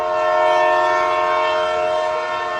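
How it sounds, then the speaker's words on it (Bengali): A cartoon train horn sounding as the train departs, one loud sustained steady blast holding for over two seconds without a break. "ট্রেন ছাড়ার সময় হয়ে গেল"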